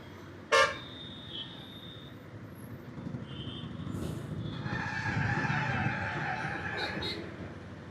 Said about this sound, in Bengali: মারাত্মক জ্যাম।